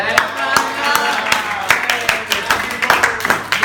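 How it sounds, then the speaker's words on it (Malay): Classroom students clap together in a burst of uneven hand claps, fairly close and loud, over about three seconds. "Okey, bagi tepuk tangan."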